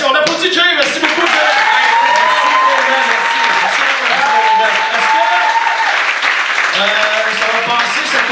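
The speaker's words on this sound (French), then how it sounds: "On applaudit Jay, merci beaucoup" An audience applauds a guest on a French-language talk show, with steady, dense clapping throughout while a voice talks over it.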